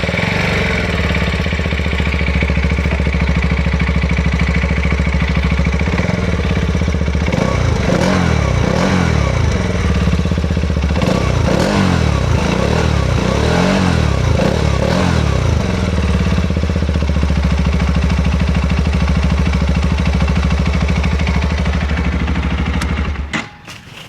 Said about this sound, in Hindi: तो अब आते हैं RTX 300 की एग्जॉस्ट नोट पे